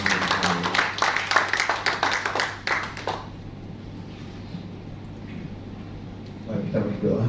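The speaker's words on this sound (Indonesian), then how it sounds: "Mari kita berikan tepuk tangan untuk Tuhan." Applause from a church congregation during a Sunday service, dense clapping for about three seconds that fades into quiet room tone, with a faint low hum running throughout.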